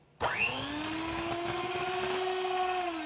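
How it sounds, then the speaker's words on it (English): Electric mixer whipping lavender body butter in a bowl, switching on abruptly and then running as a steady, close motor whine with a sustained pitch. "Mixer for 30 to 60 seconds."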